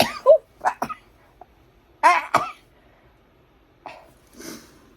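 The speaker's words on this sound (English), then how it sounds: "I'm getting ready to sneeze." A few sharp, close sneezes separated by quiet gaps, with a softer breathy burst near the end.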